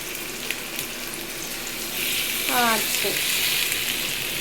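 Chicken leg pieces frying in hot oil, a steady broadband sizzle that rises and stays loud throughout, with a brief tonal clatter midway.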